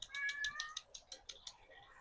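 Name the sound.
cat meowing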